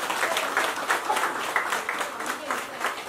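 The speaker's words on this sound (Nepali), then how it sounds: "एकपटक जोरदार ताली चाहिँ बजाउनै पर्छ सबैजनाले" An audience at an International Women's Day programme in Pokhara claps together in a steady, sustained burst of applause that fills the whole stretch, with scattered individual claps standing out.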